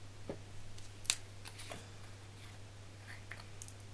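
Scissors cutting paper for a 30 x 30 Paris-themed scrapbook page: a few faint, sparse snips and clicks over a low steady hum, close and quiet, no talking.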